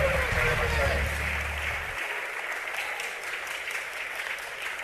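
A church congregation at an evangelical sermon applauding: a loud, sustained wash of many people clapping close by, continuing steadily as a voice speaks over it.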